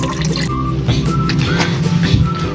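Water pouring from a drum into a gallon container during a flood, a steady close trickle and splash with faint drips, no talking.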